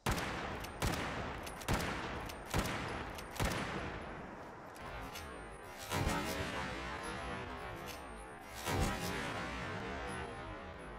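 Lever action rifle shots in Fallout 76, fired with and without a compensator: about seven sharp loud reports, five in quick succession, then two more spaced farther apart, each trailing off in a short echo.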